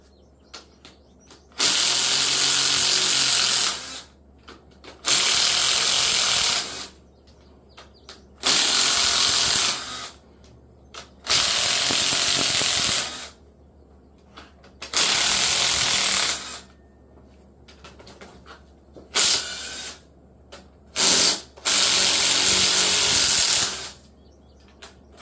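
Impact wrench loosening bolts on a 5.3 engine with a lifter failure, in about eight loud bursts of hammering rattle separated by short quiet gaps, close up with no talking.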